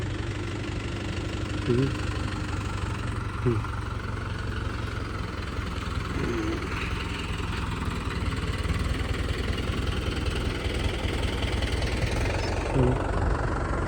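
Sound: farm tractor engine idling

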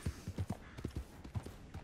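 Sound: horse hooves in Red Dead Redemption 2 video game

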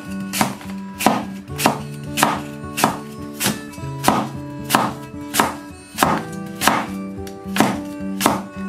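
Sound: kitchen knife slicing an apple

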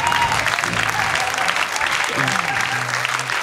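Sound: studio audience applauding a singer

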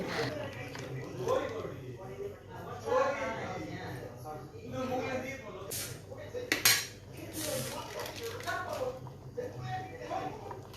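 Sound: stirring mutton soup with coriander in a pot

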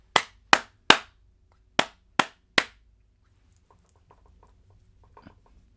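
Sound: hand clap for a capture card audio test

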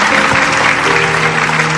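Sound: studio audience applause

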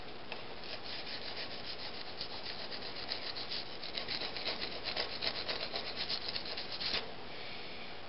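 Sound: plane blade iron corners being honed, rubbing

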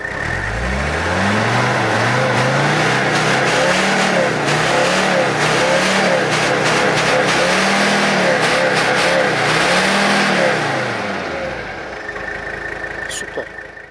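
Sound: Mercedes 300CD Turbo Diesel W123 driving, engine heard inside car

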